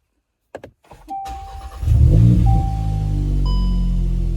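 A VW Golf GTI Mk8 with a turbo muffler delete starts up: a few clicks and a short cranking whir, then the engine catches with a loud low rumble and settles into a steady idle, heard close and without talk.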